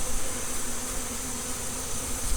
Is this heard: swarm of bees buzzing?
yes